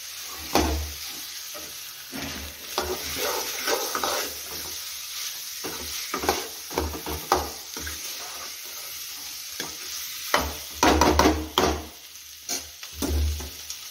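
Boiled mashed potatoes stirred in a sizzling pan while making a bhagar (varai) dosa, with scraping strokes recurring in an irregular rhythm over a steady frying hiss, close and moderately loud.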